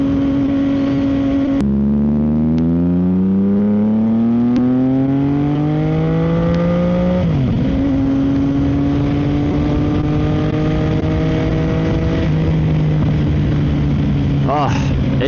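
A CFMOTO 675SS motorcycle with a Team MSC ECU tune revs up steadily through a gear, drops pitch on a shift, then pulls on at a steady drone with wind rush underneath.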